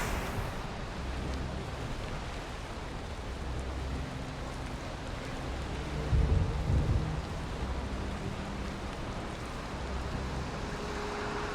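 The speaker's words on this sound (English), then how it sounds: "if during these lightning storms, if we look up, will we see Thor" A lightning storm in the Viking survival game Valheim brings steady rain hiss with a deep thunder rumble swelling briefly around the middle, no voices.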